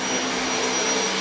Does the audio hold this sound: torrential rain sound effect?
no